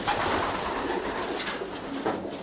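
Several pigeons coo softly and continuously in a loft, their low murmuring calls overlapping, close by.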